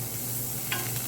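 Margarine sizzling in an already warm frying pan, a steady soft crackle and hiss with a brief scrape partway through, no talk.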